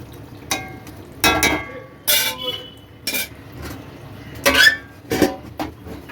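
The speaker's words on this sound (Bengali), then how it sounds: "নেড়ে চেড়ে আঁচটা কমিয়ে দিয়ে আমি ঢেকে দেবো" Bhetki fish being stirred in a pan and then covered with a lid, heard as a series of separate scraping clinks and metallic knocks of utensil and lid against the pan, spaced irregularly across a quiet background.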